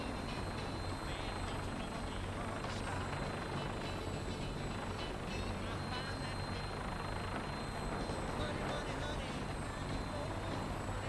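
Steady rotor and engine roar from a gunship helicopter in the video game Fallout 4, a constant dense drone that fills the clip at moderate level with no talk over it.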